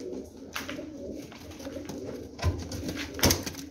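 Pigeons in a breeding loft coo softly and intermittently against a low background, with a couple of sharper bumps or wing flutters near the end.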